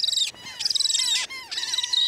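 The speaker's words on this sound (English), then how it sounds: "This is a laughing gull chick." A laughing gull chick calls at a puffin colony, giving repeated high, thin chirping cries in quick bursts with brief gaps, close and fairly loud, no talking.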